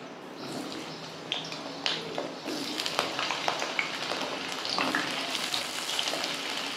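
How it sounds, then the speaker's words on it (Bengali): Cut potatoes, coated with salt and turmeric, frying in deep mustard oil in a wok: a steady, fairly close bubbling sizzle with scattered pops and crackles, running continuously with no talk. "এবার আমি ওই তেলের মধ্যে কেটে রাখা আলুগুলোকে আমি দিয়ে দেব"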